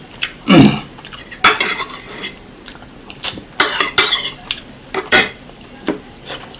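A metal spoon clinks and scrapes against a dish while someone eats Sop Saudara Pangkep, a Makassar soup served with grilled fish, giving a run of sharp, irregular, close knocks with no talking.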